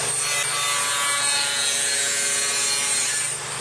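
Table saw ripping thin pallet wood fed with a quarter-inch push stick, a steady loud whining cut with a bright tonal hum that holds level throughout, easing slightly at the very end.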